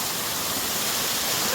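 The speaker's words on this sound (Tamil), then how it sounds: "ஸோ சப்ஸ்கிரைபர்ஸ் நம்ம வந்துட்டோம் பெரியார் ஃபால்ஸுக்கு." Steady broadband rush of Periyar Falls, a waterfall, filling the whole moment at an even, continuous level with no voices over it.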